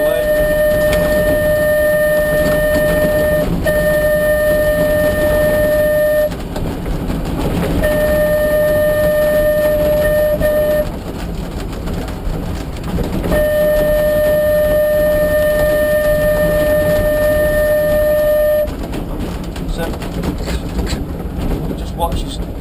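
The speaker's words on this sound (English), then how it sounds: "Just give him a whistle" A Manx Electric Railway tram's electric whistle on the Isle of Man sounds in several long steady tones with short pauses between, over rumbling rail noise, with people talking nearby.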